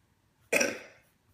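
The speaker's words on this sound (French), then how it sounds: "c'est mon fils qui tousse" A child's single short, harsh cough, close by, after near silence.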